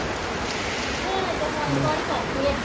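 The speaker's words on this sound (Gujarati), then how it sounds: "વરસાદ તો એક નંબર ચાલુ થઈ ગયો" Steady rain hisses continuously, a dense wash of falling water with no breaks, moderately loud and close.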